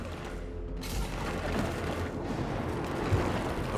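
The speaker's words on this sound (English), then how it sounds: "Shepard, I hear gunfire." Gunfire and explosive booms in a Mass Effect 3 battle, a continuous dense barrage of shots and rumbling blasts with a sharp loud hit near the end.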